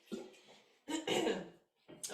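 A woman coughs a few times indoors, a soft short hack followed by a louder, rougher burst of coughing, fairly faint and close.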